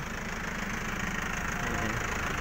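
A 2004 Isuzu Panther diesel engine idles steadily, with a continuous close-up rumbling clatter that stays even in level throughout and has no voices over it.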